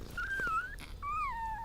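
A newborn puppy, raised by a mother cat after being rejected by its own mother, gives two thin, wavering whimpers, close and soft, with a short pause between them.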